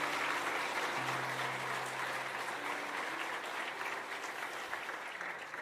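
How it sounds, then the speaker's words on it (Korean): A church congregation at a combined Bible conference worship service claps steadily for a missionary back from India, a dense, even wash of applause held throughout with no talk. "우리 선교사님 잠시 박수로 좀 위로해 주시면 감사하겠습니다"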